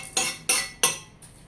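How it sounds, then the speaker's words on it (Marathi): Roasted fenugreek seeds being scooped into a bowl, giving three sharp metallic clinks of a spoon against the dish in quick succession, then a fainter fourth tap, close and alone without talk. "ते मी ह्या बाउलमध्ये काढून घेत आहे."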